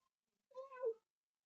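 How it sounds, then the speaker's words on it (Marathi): A pet cat gives a single drawn-out meow, close and clear, lasting about half a second in an otherwise quiet household room. "हे आमचे मांजर बघते"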